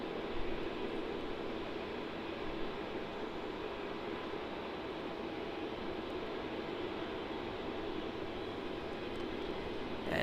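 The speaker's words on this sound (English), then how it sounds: "the A380 is slowly making its way over there to the international terminal" Airbus A380 taxiing slowly toward the international terminal at Melbourne Airport, a steady broad jet-engine roar with airy hiss, continuous and fairly distant, no voices over it.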